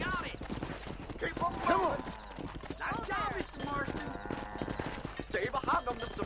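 Horse hooves clip-clop in the Western game Red Dead Redemption as a rider herds cows, a fairly quiet, irregular clatter of steps mixed with a whinny and game dialogue over it.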